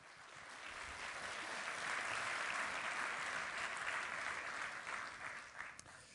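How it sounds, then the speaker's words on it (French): Loud, sustained applause from a large conference audience in France, building over the first couple of seconds and holding steady throughout with no voices above it. "Je voudrais que vous applaudissiez très fort le directeur général de l'ANSSI, Patrick Paillot."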